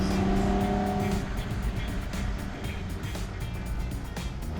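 A 1963 Ferrari 250 GTE drives along, its engine a steady, moderately loud hum from inside the car with a low rumble and no talking.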